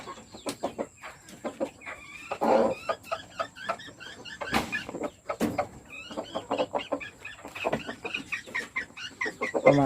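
Chickens cluck repeatedly outdoors, near and fairly loud, with short, choppy calls in an irregular rhythm and a rooster-like cry mixed in. No one speaks.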